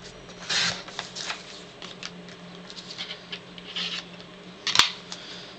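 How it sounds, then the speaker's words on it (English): Scissors snip through a paper doily for a Valentine's scrapbook layout, a run of short crisp cuts and rustles at close range, quiet between strokes, with one sharp click near the end. "I know I want to cut this up."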